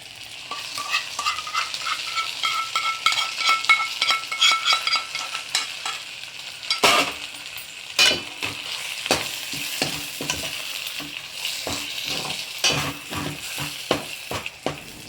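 Chicken being stirred in a steel kadai with poured garlic butter, a steady close sizzle and frying hiss broken by repeated scraping strokes of a spoon against the metal pan, with no voices.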